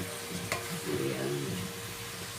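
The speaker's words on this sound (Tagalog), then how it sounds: "Igisa lang natin konti." Vegetables for chop suey are sautéed in a pan, with a steady close sizzle, a brief clink of a utensil, and some stirring scrapes, with no talk.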